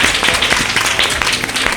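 Studio audience applause at an Eid television show, a loud, dense burst of clapping filling the whole short moment without any voices.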